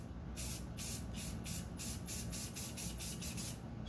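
Spray paint hisses steadily from an aerosol can onto a small engine's head gasket, with a rapid rhythmic pulsing running through the close, continuous spray.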